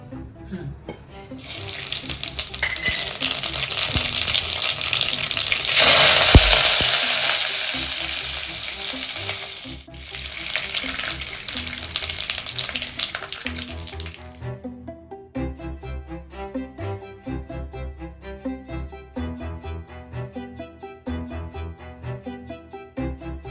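Loud, steady sizzling of spices tempering in hot oil for tomato rice, with a bright hissing wash that cuts off abruptly, followed by quieter clinks and stirring sounds.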